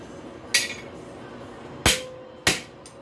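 A hammer strikes a soft cutting plate on a blacksmith's anvil three separate times. Each blow is a sharp, loud metallic crack with a short ringing tail, and there are uneven pauses between the blows.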